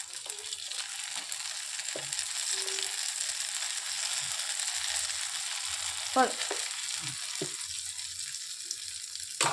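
Jalebi batter is poured into hot oil and fries with a soft, continuous sizzle and fizz, with a few sharp scraping clicks and knocks from utensils near the end.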